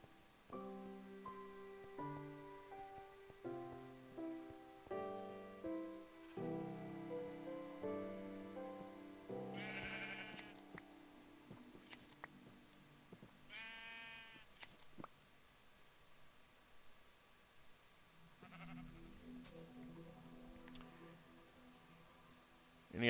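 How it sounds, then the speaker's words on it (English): Sheep in the Minecraft video game bleat in a quick series of short, wavering calls, layered with plinking game tones and soft rustling effects at moderate volume. "Any other sheep that I can shear?"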